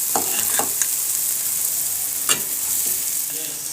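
Mashed jackfruit seeds fry in a pan with a loud, constant close-up sizzle, while a few scraping stirs of a spoon cut through the hiss.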